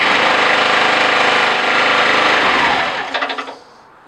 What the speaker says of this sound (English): We're in a good position to start the engine